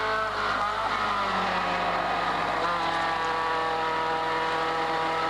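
A race car engine at Bathurst in 1980 drones loudly and steadily from inside or close to the car, with harmonic pitch shifting slightly as it holds speed, no talk over it.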